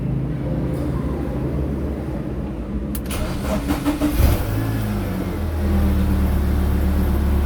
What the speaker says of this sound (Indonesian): kita coba start mesinnya supaya airnya bersirkulasi ya